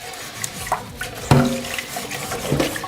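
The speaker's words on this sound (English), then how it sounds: "they'll have the hot water running like this" Hot water pours from a kitchen tap into a sink, a continuous close splashing wash with a few sharper clatters and knocks mixed in, no one speaking.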